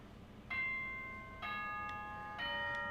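A nighttime announcement chime from the video game Danganronpa rings three times in quick succession, each a clear, bright bell-like tone that lingers and fades, loud against a quiet background.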